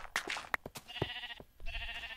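Quiet sheep bleats from the Minecraft video game come in short, scattered bursts, blended with faint game clicks and no talking.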